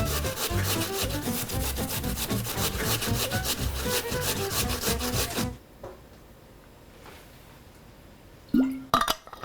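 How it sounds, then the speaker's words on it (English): Vegetables are grated by hand on a box grater in a home kitchen, producing rapid, rhythmic rasping strokes for several seconds. The strokes then stop abruptly, leaving near quiet before a couple of sharp clinks. "So I'm just gonna grate everything by hand on a box grater."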